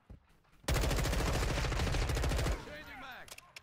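Rapid automatic gunfire in the shooter game Modern Warfare 2, a loud burst of roughly two seconds of fast repeated shots, followed by a brief fading ring and faint background game noise.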